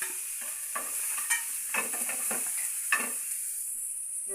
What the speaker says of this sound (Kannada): ಈಗ ಆನಿಯನ್, ಜಿಂಜರ್ ಗಾರ್ಲಿಕನ್ನು ಫ್ರೈ ಮಾಡುವ.